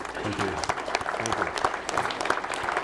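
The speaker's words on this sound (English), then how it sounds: "Please join me in a round of applause for" Town hall audience gives panelists a round of applause, a brisk, fairly close burst of clapping with a faint voice briefly underneath.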